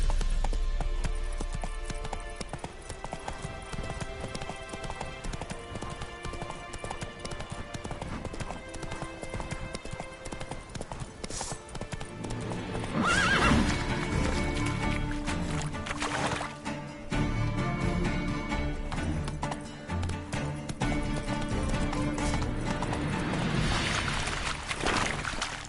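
Roach, a horse in The Witcher 3 video game, gallops with quick rhythmic hoofbeats that grow louder and denser partway through, set against steady game ambience and music.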